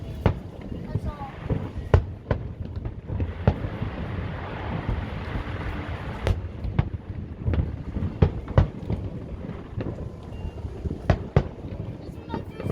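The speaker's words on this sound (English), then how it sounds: "This is my first time watching the fireworks on the boat." Fireworks bursting over Destin Harbor, heard from a boat on the water as a string of sharp, scattered pops and booms over steady wind and engine rumble, with voices talking throughout.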